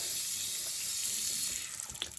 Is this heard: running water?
yes